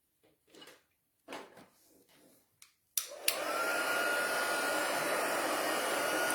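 After a few soft handling taps and clicks, a heat embossing gun switches on with a sharp click and blows a loud, steady, whining roar while melting embossing powder.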